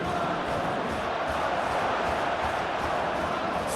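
A simulated stadium crowd in the eFootball video game during a PSG versus Arsenal Champions League semi-final, producing a dense, steady roar of cheering that continues throughout.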